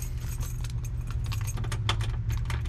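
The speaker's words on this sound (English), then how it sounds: "Let me grab the keys out of my back pocket." Car keys for a 1964 Ford Falcon convertible jangle as they are pulled from a back pocket, a close, bright, irregular metallic clinking that runs throughout over a steady low background rumble.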